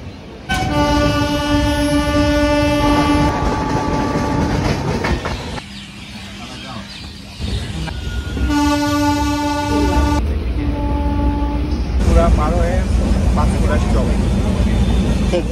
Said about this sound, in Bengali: আমাদের ট্রেন বিষ্ণুপুর ছেড়ে বেরোচ্ছে